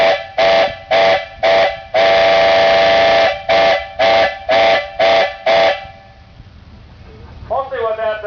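A steam whistle at a Rollag steam demonstration sounds a runaway-team warning: a loud, near run of short blasts broken by one long blast, then a voice starts speaking as the whistle stops.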